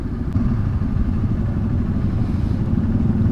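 A group of thirteen motorcycles rides together on a misty early-morning road, a continuous close engine drone with low rumble and wind.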